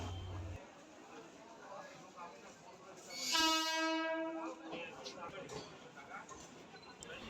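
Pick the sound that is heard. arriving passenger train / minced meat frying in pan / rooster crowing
arriving passenger train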